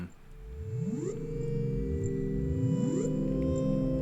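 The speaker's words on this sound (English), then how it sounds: "like this PS delay that I added. I wanted a bubbly sound." Bubbly synthesized tones sweep upward in repeating glides, each trailed by echoing repeats from a PS delay effect, fairly loud and steady.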